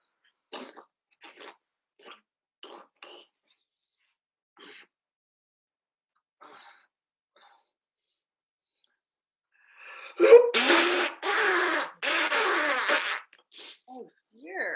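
Short scattered breathy bursts lead into a loud cluster of sneeze-like noises from a person near the end, followed by brief speech.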